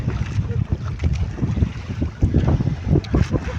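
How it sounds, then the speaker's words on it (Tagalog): Strong gusting wind buffets the microphone in heavy, low rumbling bursts, with no voices heard. "Umulan at humangin na."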